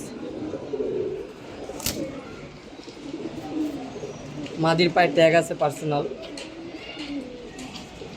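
Giribaz pigeons coo softly in low, throaty murmurs while someone talks close by.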